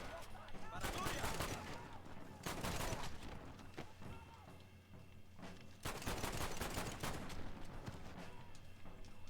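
Pistol gunfire in the video game Red Dead Redemption, loud rapid shots in clustered volleys with sharp cracks and short gaps, fired close in a dense burst of repeated blasts.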